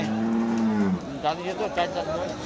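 A cow at a cattle market in Madarganj, Thakurgaon, gives one long, loud, close moo that drops in pitch and stops abruptly, followed by a few short, irregular lowing and grunting sounds amid market noise.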